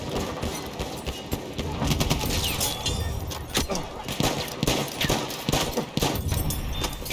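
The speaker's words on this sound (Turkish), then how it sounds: "Niye sıkıyorsun adama?" Gunfire in Battlefield 1 rattles through a battle as dense, overlapping bursts and sharp reports, fairly loud and continuous amid busy game noise.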